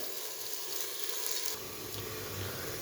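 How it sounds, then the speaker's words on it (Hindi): Chopped onions sizzle steadily in a pan with hot oil, a continuous close hiss with soft crackles for a Punjabi dhaba-style chicken curry, growing slightly fuller partway through. "प्याज़ों को मैंने फ्राई तकरीबन कर लिया है"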